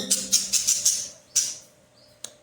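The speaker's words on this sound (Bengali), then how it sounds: "এই দেখো এই রেড আই পাখি খুব সুন্দর।" A red-eye bird gives a quick series of five sharp, bright chirps, then one more after a short pause, close and fairly loud in a quiet room, with a faint click near the end.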